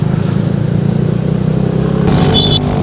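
A truck on the road gives a loud, close, continuous engine rumble that holds steady, picked up from the roadside during a ride, with a brief clatter near the end.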